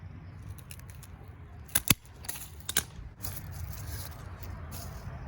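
Pruning shears snipping a rose cane, a couple of sharp close clicks around the middle with a second snip shortly after, over quiet outdoor background.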